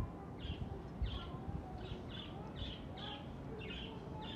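Birds chirp in short, repeated bright calls over a steady low rumble while pigeons are being fed, the calls coming in spaced bursts throughout with no talk.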